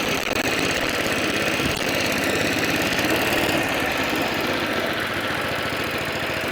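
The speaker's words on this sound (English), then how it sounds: "if you put it on full belt, which I don't really want to do because it's a vintage engine" A vintage cylinder lawn mower engine runs steadily at moderate revs, close by, with a constant chugging drone and a faint mechanical rattle throughout.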